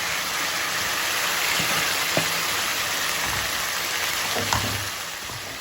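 Chicken pieces fry in a pan for Jahaji chicken, giving a steady, even sizzle with occasional small pops and no talking.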